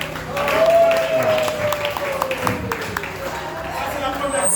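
An audience at an eloquence contest claps in a steady, moderately loud spread of applause while voices talk over it and a faint whistle-like tone drifts through.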